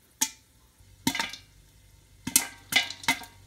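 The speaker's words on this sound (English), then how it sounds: "So you can hear it popping." Kettle corn pops in a pot on the stove, five sharp crisp pops spaced irregularly over a few seconds, close and clear above a faint low background hiss.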